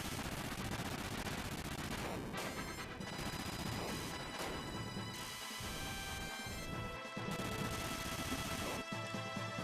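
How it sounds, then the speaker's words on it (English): Continuous heavy particle cannon fire in the sci-fi video game A Kobold Story, a dense, loud barrage of rapid blasts and crashing impacts that never lets up, with no talking over it. "I have a particle cannon, and it's kicking the crap out of this thing."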